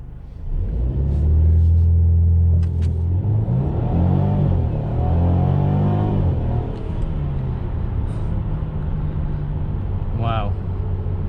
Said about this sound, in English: we're going to go ahead and brake boost it and see how this C300 does